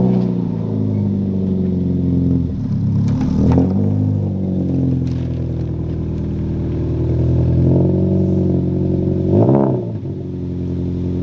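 A Subaru BRZ fitted with a Megan Racing exhaust idles and creeps forward, a steady mid-pitched engine hum with brief revs and a clatter near the start, close and loud with no talking.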